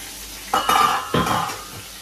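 A pork chop frying in a pan, with two bursts of sizzling and scraping as the meat is moved or turned, close and fairly loud against a low steady hiss.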